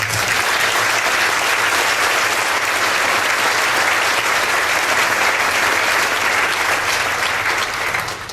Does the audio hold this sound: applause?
yes